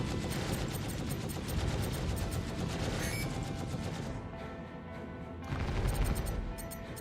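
Sustained rapid-fire weapons in a Super Hornet space combat video game pour out as a dense, continuous stream of shots at spawning enemies, briefly easing before another loud burst.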